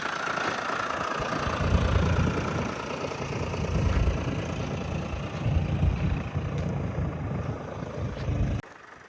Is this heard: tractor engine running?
yes